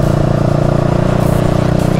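A GPX Demon GR 165 motorcycle's engine and exhaust hold a loud, continuous, close throbbing drone with a fast steady pulse and no talk over it.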